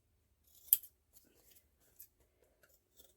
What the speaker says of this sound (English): I'm just going to cut that bit of thread off the top